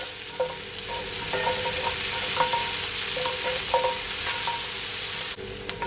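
Onions sauté in a pan over a low stovetop flame, giving a continuous, fairly loud sizzle broken by light scraping and tapping, then cut off abruptly near the end.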